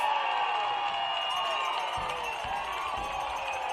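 Spectators at a Bend Elks summer baseball game cheer and clap after a stolen base, a moderate crowd roar carrying through with an announcer speaking over it.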